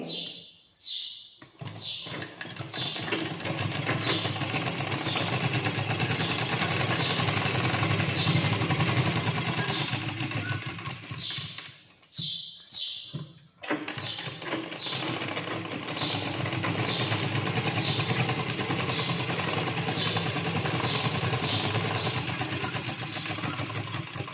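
Sewing machine stitching the collar of a Punjabi dress, a loud close mechanical whir running continuously with rapid rhythmic clatter, briefly pausing twice before resuming at a steady pace.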